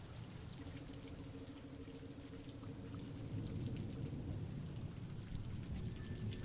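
Steady rumbling wash of approaching rain in the Rain World video game, a dense low roar with a faint thunder-like swell that grows slightly louder partway through, continuous and without speech.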